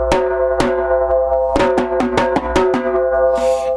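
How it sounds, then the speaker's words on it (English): A hand-played djembe gives a series of sharp, bright slap strokes in an uneven rhythm, about a dozen close, loud cracks, each leaving a brief ringing tone before the next hit. "So this is the way to play a slap."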